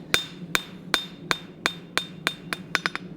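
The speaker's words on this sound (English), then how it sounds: "So very lightly, we're just planishing out the hook portion so it looks better." A blacksmith's hammer lightly planishing the hook of a pair of tongs on an anvil, about eleven sharp ringing strikes at a steady pace that quickens into a rapid cluster at the end, close and clear with no talking.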